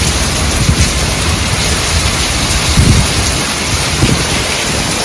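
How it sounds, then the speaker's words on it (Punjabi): Heavy rain pours down on a village in a steady, dense roar, with occasional low rumbles of thunder beneath it. "ਬਹੁਤ ਜ਼ਬਰਦਸਤ ਮੀਂਹ ਪਿਆ ਅੱਜ"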